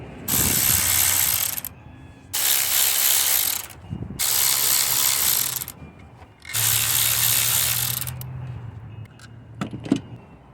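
A hand ratchet loosening the 12 mm nuts and bolts on a Lexus ES300 throttle body, four loud bursts of rapid clicking separated by short pauses, close up with no talking.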